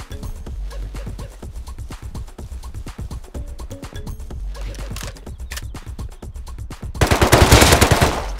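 An MP5 submachine gun firing in the survival video game Rust: rapid, loud automatic bursts rattle steadily throughout, ending in a denser, heavier volley.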